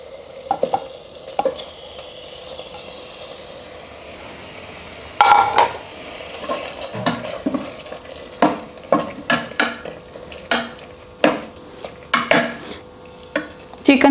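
Chicken sizzles in hot oil with fried garlic paste while a utensil repeatedly scrapes and clanks against the pan, producing irregular sharp knocks over the steady frying hiss.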